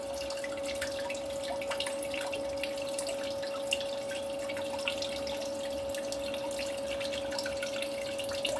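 Water rinses lighter material off crushed black fibre CPUs during gold recovery, a steady close trickle and drip with a constant tone running beneath.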